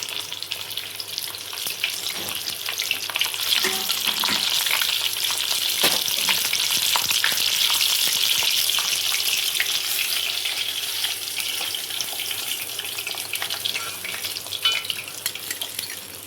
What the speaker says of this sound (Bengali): মাছটা যেহেতু লেবু দিয়ে ম্যারিনেশন করা ছিল, সেহেতু বেশ ভালো মতন ফ্রাই হয়ে গেছে